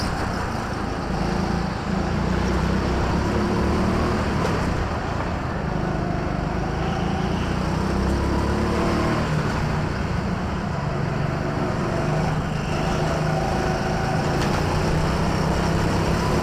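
Several go-karts race around an indoor track at Teamsport London Docklands, a steady dense engine drone filling the whole stretch with rising and falling revs and no voices.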